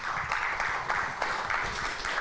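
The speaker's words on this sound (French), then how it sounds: "On vous invite à applaudir." Fairly faint audience applause at a talk on sustainability regulation, a steady patter of many hands with slight pulsing swells, heard from some distance.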